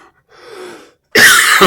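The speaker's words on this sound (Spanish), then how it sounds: "perdónenme la tos" A faint breath, then a single loud, harsh cough right up close, abrupt and explosive.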